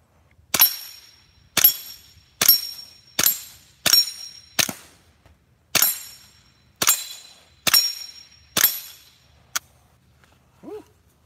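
A suppressed Ruger 10/22 .22 rifle fires about ten sharp, evenly spaced shots at a steel dueling tree outdoors, each a crisp crack with a brief metallic ring, followed by a fainter ping.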